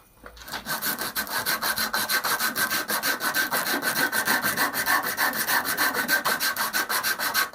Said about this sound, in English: First I use grit 60 sandpaper to get a little bit rough shape.